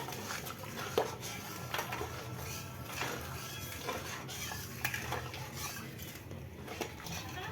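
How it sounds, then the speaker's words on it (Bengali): Beaten sour yogurt is stirred into a hot pan for a yogurt-eggplant dish, with continuous scraping and soft clinks of a spoon over a low, steady sizzle. "এইবার আমি এই দইটাকে এর মধ্যে দিয়ে দেবো ভালো করে নাড়িয়ে নিতে হবে"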